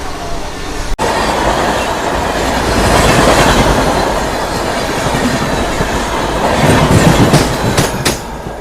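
Moving Secunderabad to Villupuram special passenger train, a loud steady rumble of wheels on track heard from inside, with rhythmic clickety-clack and sharp metallic clicks near the end.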